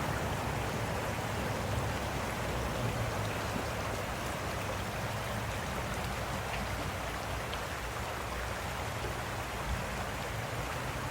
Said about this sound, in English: So here's our creek.